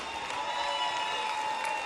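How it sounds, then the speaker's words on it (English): A stage audience applauds steadily for a woman being welcomed up at a corporate event, dense, even clapping filling the room without a break, with faint cheering mixed in. "Come on, guys, a big round of applause for the lady"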